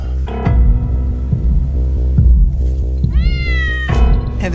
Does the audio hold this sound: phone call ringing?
no